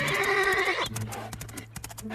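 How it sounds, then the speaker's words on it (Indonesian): A toy horse plays a recorded whinny, a short shrill neigh followed by a quick run of clip-clop hoofbeats, close and fairly quiet. "Dan ternyata seekor kuda."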